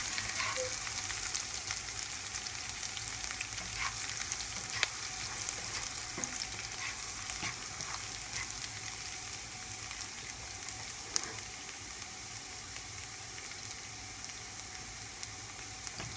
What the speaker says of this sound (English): Let the garlic cook in the oil until it's turned a little bit yellow and brownish, not burn